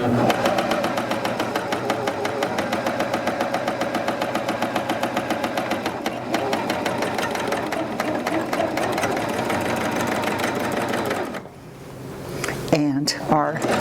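A Janome Coverpro 900cpx coverstitch machine runs steadily as it stitches a hem, giving a fast, even mechanical chatter that continues for about eleven seconds before stopping, followed by a few brief handling clicks.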